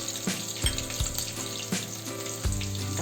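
Cashew pieces frying in hot oil for lemon rice, a steady crackling sizzle with a few sharp spoon taps against the pan.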